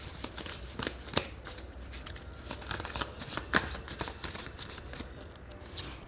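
Tarot cards being shuffled, a steady papery riffle and flutter with a few sharper snaps, close and fairly quiet, no voices.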